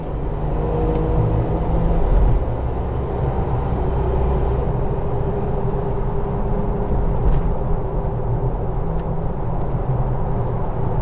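A Jeep TJ with 3.73 gears and 32-inch tires speeds up on a highway, its engine and road roar droning loud and steady from inside the cab with a low rumble throughout.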